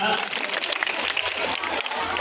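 Audience clapping at a school magic show, a short burst of dense applause heard alongside an excited voice talking over it.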